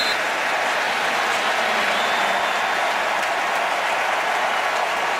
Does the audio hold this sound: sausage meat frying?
no